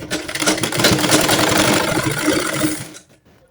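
A sewing machine stitches a baby frock, gathering the fabric into pleats from the middle, in one steady loud mechanical whir lasting about three seconds before stopping abruptly.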